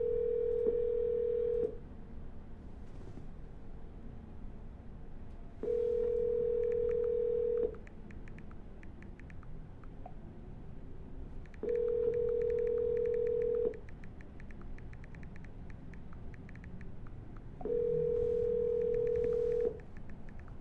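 A telephone line gives a steady tone in repeated bursts about two seconds long, four evenly spaced rings separated by quieter gaps of line hiss, no speech.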